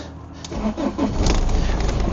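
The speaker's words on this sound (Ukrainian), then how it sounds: "Запускаємо двигун." A used car's engine turning over on a cold start, a short burst of cranking that catches and settles into a loud, steady idle, heard close and alone.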